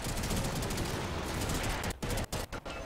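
Rapid automatic gunfire in the shooter game Warframe, a dense, loud, continuous burst that breaks into choppy short bursts toward the end.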